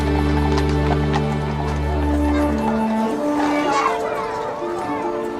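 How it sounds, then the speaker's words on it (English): Bay horse teams and a grey lead team pulling royal carriages in Windsor Great Park at the coronation, hooves clip-clopping steadily over a low rumble, with a horse whinny and crowd noise around. "Today we're running 3 bay teams, that's 12 horses, with just a grey team in front for the King and the Queen."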